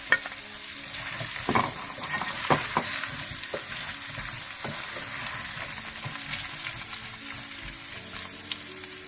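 Chicken pieces sizzling in a hot pan for chilli chicken, a steady broadband fry with occasional sharper crackles and stirring knocks, moderately close and unaccompanied by talk.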